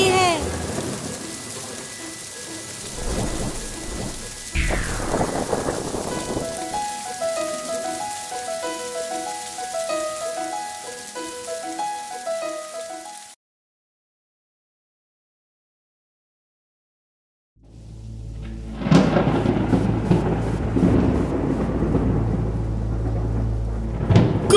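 Heavy rain pours as thunder rumbles and cracks. Everything falls silent for a few seconds, then the downpour and thunder return loudly.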